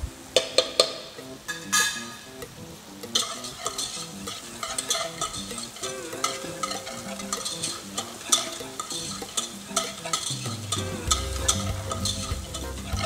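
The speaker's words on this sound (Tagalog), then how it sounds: "Then afterwards, we're going to add chopped white onion. Then let's just saute it" Chopped white onion sautés in a pan for a soup, giving a steady sizzle and frying hiss broken by frequent scraping and clinking stirs of a utensil against the pan, close and continuous.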